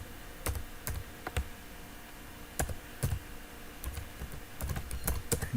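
Someone types on a computer keyboard while writing Java code, with scattered key clicks and short quick bursts over faint background hiss, and no speech.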